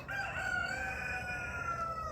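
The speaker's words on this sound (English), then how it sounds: "I've annoyed the rooster over there" Rooster crowing outdoors, one long drawn-out crow lasting about two seconds, clear and fairly close against a steady low background hum.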